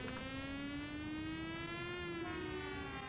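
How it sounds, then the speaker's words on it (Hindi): A siren wails steadily and slowly rises in pitch, a faint, continuous sustained tone with harmonics, alone with no talking. "ये सायरन किसी दिन जान ही ले लेगा।"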